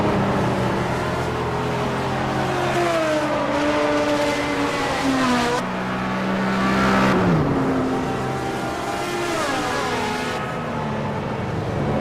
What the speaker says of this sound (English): LSP Geo 5 AM driver Brian Hall accelerating harder from straight 3.